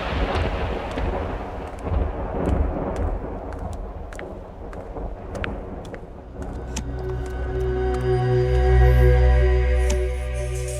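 Rolling thunder from an approaching storm, a loud low rumble that swells and builds toward the end with faint rain beneath, no voices.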